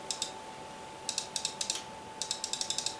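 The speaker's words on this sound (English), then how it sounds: "So that is the sound of a mouse" Crisp computer mouse clicks close up, a couple of single clicks followed by quick bursts of rapid clicking against a quiet background hum.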